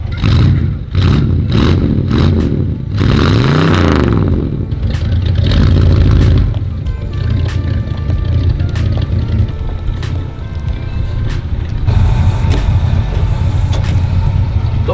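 A Chevrolet Impala's engine is revved hard several times in quick bursts, then settles into a loud, rumbling idle with clatter, close up and without speech.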